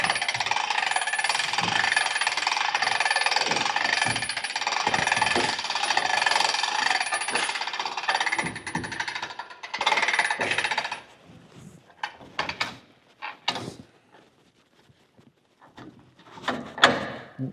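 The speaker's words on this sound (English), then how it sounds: "you simply just toggle this front, start cranking, and this thing cranks right around." Hand crank winding the tarp system on a Titan frameless end dump trailer: about ten seconds of continuous rattling, clicking ratchet noise up close, then scattered clanks and knocks as the cranking stops and the tarp settles.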